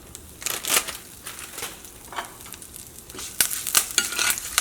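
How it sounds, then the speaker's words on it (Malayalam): Mustard seeds splutter in hot oil for tomato curry, close up, with sharp, irregular pops and crackles that grow busier toward the end. "കടുക് പൊട്ടണം കേട്ടോ."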